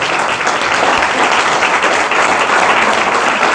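Audience applause at a political gathering: dense, loud, continuous clapping from a large crowd, sustained evenly throughout.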